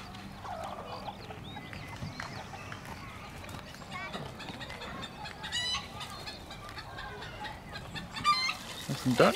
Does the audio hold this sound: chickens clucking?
yes